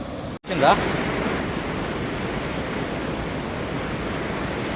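Water of the Maneru river at Somanpalli rushing in a steady, loud wash of broadband noise, with a brief dropout and a thump near the start and wind buffeting the microphone.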